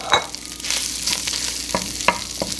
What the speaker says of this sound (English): we are gonna go ahead and add our stew meat to our pan